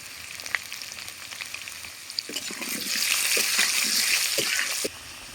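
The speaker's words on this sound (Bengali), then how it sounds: "লাল লাল করে ভাজা হয়ে গেছে" Potatoes with turmeric fry in a hot pan at home, a bright hissing sizzle that swells louder midway, with scattered clicks and scrapes of stirring and no talk.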